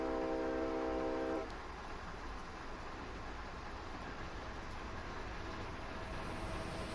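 A train on the Sherman Hill line rumbles past steadily, a dense broadband roar; a horn-like tone sounds for the first second and a half before the continuous rolling noise carries on, moderately loud.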